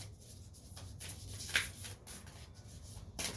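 Soft, continuous papery rustling and riffling of an oracle card deck being shuffled by hand, quiet and close with small periodic swells.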